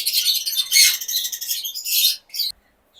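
Pet parrots and lories at a bird farm let out loud, harsh, shrill squawks in repeated bursts close by, ending in a short final screech and then quiet.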